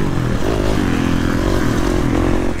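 KTM motocross dirt bike on a track, its engine roaring loud and steady with throttle rises and falls, heard alone without talk.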